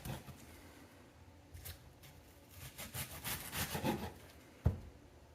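A knife saws through an onion with quiet, rhythmic rasping strokes that grow a bit louder, followed by a sharp tap near the end.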